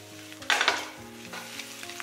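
Mushrooms, egg and red pepper are stir-fried in a wok, a brief close sizzle with sharp bursts of spatula tossing and scraping.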